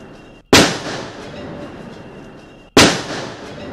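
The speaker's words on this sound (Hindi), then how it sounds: "जवानों ने जो आईईडी बरामद किया उसके धमाके की आवाज आप सुनिए" Two heavy blasts from a recovered IED packed in a pot, detonated in a controlled explosion near a village in Chhattisgarh and heard from a distance, each a sudden boom trailing into a long rumbling decay.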